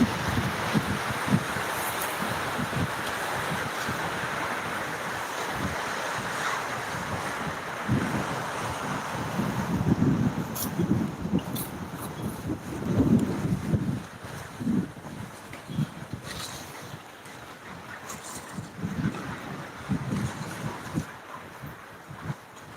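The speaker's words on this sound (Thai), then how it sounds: "ฝนตกและลมก็แรงมากด้วยนะคะ" Heavy rain driven by strong wind, a dense continuous wash with gusty roaring surges and buffeting against the microphone, close and fairly loud, no talk.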